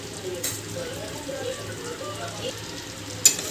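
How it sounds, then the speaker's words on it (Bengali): Meat sizzles and fries in a pan as it is stirred with Kashmiri chili powder for mangsho kosha, a steady close crackle with occasional scraping clinks of the spoon against the pot. "ভালো করে নেড়ে চেড়ে নিচ্ছি।"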